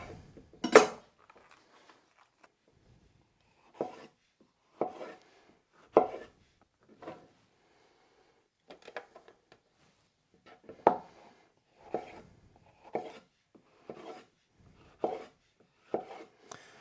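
A knife chopping a green pepper on a cutting board, about a dozen crisp knocks in an uneven rhythm, close and clear, with quiet pauses between cuts.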